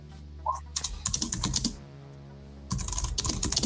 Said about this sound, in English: I'm typing into my notes